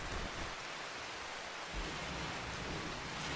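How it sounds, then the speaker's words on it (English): Steady rain hisses across the whole clip in the video game RimWorld, with a low thunder rumble rolling underneath; no voices, just the continuous wash of the storm. "And it's raining outside?"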